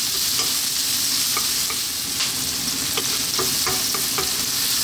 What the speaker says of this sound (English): We're on a high heat and we're going to go for about 3 minutes stir frying around.